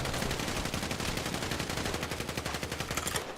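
Rapid gunfire in a GTA roleplay video game, loud, dense bursts of automatic shots firing continuously for a few seconds.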